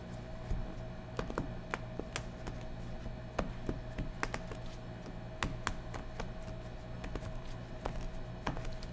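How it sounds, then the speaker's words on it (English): Quiet, irregular clicking of keys on a computer keyboard, a run of light taps with short pauses, heard close up with no voices. "She's typing. I could hear the keyboard going."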